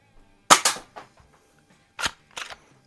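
A Crosman PSM45 BB pistol fires at a can, giving sharp, close snapping shots, a pair early and another pair about a second and a half later, with no voices.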